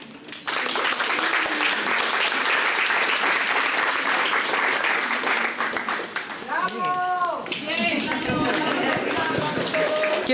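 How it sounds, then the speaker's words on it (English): Attendees at a city planning commission zoning workshop clap in a loud, sustained round of applause that tapers off as a voice begins speaking near the end. "Give yourselves a round of applause."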